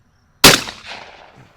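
A single loud blast from a 1902 Remington No 9 shotgun, a sharp close crack that decays over about a second, alone with no talk.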